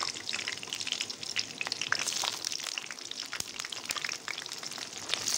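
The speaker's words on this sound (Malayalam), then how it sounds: "ബ്രിങ്കാൾ ഫ്രൈ ചെയ്തെടുക്കുന്നു." Brinjal (eggplant) sizzles steadily in hot oil for a Hyderabadi-style bagara baingan, a dense, continuous crackling fry with small spits and pops throughout and no voices.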